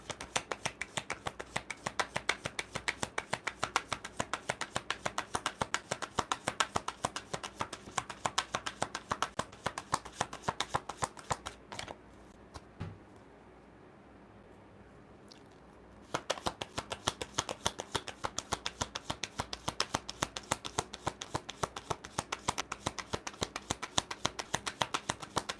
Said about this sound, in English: I'm sitting here shuffling the cards, right?